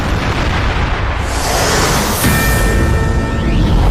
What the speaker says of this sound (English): This is the moment that Israeli airstrikes